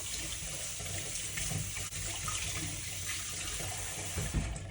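Leeks washed under a running kitchen tap, a steady, close hiss of water pouring into the sink with slight splashing shifts as the stalks are handled, no talking.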